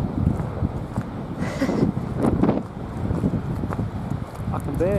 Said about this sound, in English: It's very breezy.